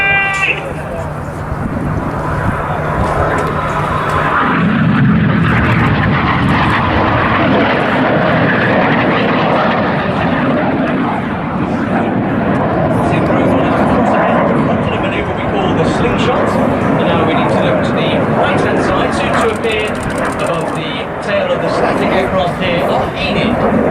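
A lone Red Arrows jet streaks past at high speed during the Duxford airshow, its loud roaring engine building and sustaining across the whole stretch, with crowd noise and a commentator talking underneath.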